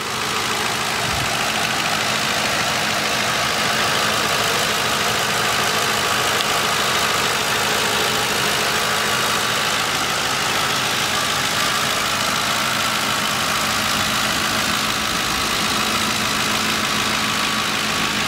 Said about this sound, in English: Very quiet engine.